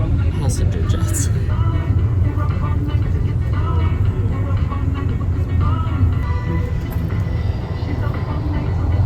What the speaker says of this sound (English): we are driving across the airport. It is very weird to be going across the airport on this little cutaway bus